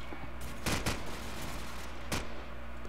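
Gunfire from Call of Duty 4 in a competitive match: a few sharp broadband shots at about 0.7 and 0.9 seconds, with another crack near 2.1 seconds, over a constant dense game background bed.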